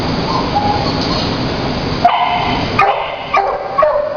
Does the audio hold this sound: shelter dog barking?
yes